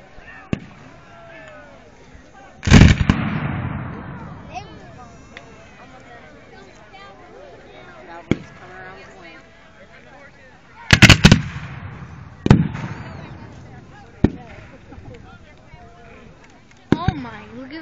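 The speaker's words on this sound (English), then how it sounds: "Whoa. Cannons. I felt my inside." Several heavy cannon booms at a Civil War battle reenactment of the Battle of Olustee ring out at irregular intervals with rolling echoes, loud and outdoors, while people talk and react in between.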